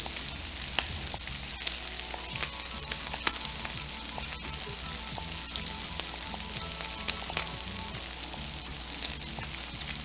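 Bacon and sausage links sizzle steadily on a Blackstone flat-top griddle, a dense continuous frying crackle with scattered sharper pops throughout, close and even, with no talking.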